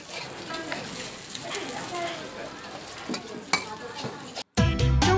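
An egg fries in a pan at a noodle shop in Xidi, with a steady close sizzle, light stirring and utensil clatter, a few louder knocks, a brief dropout and a burst of louder noise at the end.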